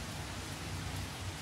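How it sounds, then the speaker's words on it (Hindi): Heavy rain falls outside during a thunderstorm, a dense, steady hiss of downpour heard alone, with no one speaking. "बाहर ना बारिश बहुत हो रहा है, बहुत ही ज्यादा बारिश हो रहा है।"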